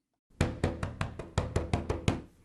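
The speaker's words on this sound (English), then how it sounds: "Violent knocking jerked Tim out of his thick, liquor-induced sleep" A rapid series of about nine heavy, violent knocks on a door as an audio drama sound effect, loud and close, evenly spaced.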